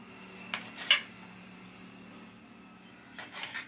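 A knife cuts a piece from a homemade sponge cake, giving a few quiet, sharp clinks and scrapes of the blade against the dish, separated by a near-silent pause.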